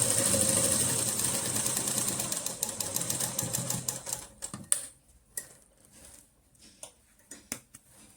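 A sewing machine stitches a double-folded saree hem with a steady, close, rapid mechanical whir. The whir then stops, leaving sparse clicks and fabric handling.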